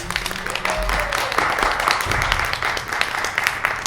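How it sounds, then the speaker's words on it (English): Theater audience at an improv show clapping for a performer, a moderate burst of applause over a low hum of the room, thinning toward the end. "Yeah, give him a round of applause."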